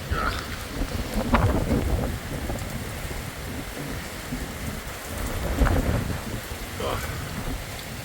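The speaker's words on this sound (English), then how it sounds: "You can see the rain is blowing basically sideways as the wind's really bad." Heavy rain pours steadily, blowing sideways, while strong hurricane wind gusts roar over it, a dense, continuous outdoor storm with occasional louder swells, near Disney World, Florida.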